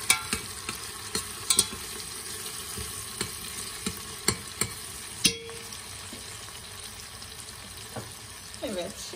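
Tomato paste sautés in a pan with a low sizzle, punctuated by regular scraping clicks of a utensil stirring, close up and without talk.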